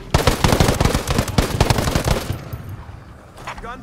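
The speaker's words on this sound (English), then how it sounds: "Gunfire, gunfire in the area." Rapid bursts of automatic gunfire from the shooter Ghost Recon Breakpoint crack loudly and close for over two seconds, then break off into quieter ambience with a faint voice near the end.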